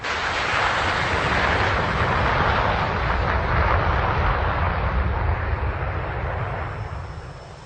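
Military jet aircraft flying on long-range strike missions in the Falklands war, a loud continuous broadband roar sustained throughout with a slight fade at the end.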